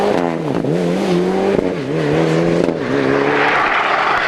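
Rally car at full throttle on a stage of the 2005 Cork 20 International Rally, driven with the handbrake: a loud, close engine revving hard through gear changes, with pitch rising and falling and a brief tyre or gravel rush near the end.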